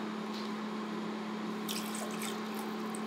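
Water poured into a hot pot for beet brine gives faint trickling and splashing, with brighter bursts in the second half over a low steady hum.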